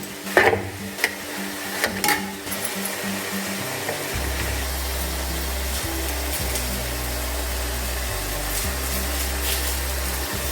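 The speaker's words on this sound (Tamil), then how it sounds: "தக்காளி நல்லா வதங்கட்டும்" Tomatoes with a little salt cook down in a pan, producing a steady frying hiss under a low continuous hum, with a few stirring knocks near the start.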